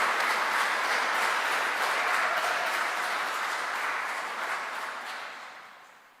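Audience applause fills the hall at a Christmas celebration of a Pakistani Urdu church community, a dense continuous patter of many hands that gradually fades toward the end.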